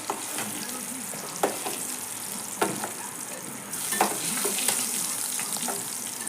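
Eggs frying in oil in a pan until reddish-brown, a steady close sizzle with occasional sharper crackles and spatula scrapes, no talking.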